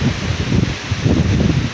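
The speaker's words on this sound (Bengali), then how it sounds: "কীরকম বাতাস হলে এরকম হয় আপনারা দেখতে পারতেছেন প্রচণ্ড বাতাসের গতিবেগ" Strong wind from Cyclone Remal in 2024 roars and buffets against the microphone in loud, uneven gusts, with rustling of leaves mixed in.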